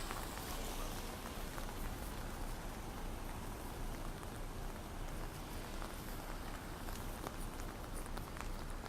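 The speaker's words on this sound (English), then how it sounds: "the rain has not stopped since" Steady heavy rain falls outdoors in Venice, Florida, after a bank drive-thru overhang collapse, a dense even hiss that holds constant throughout with no voices.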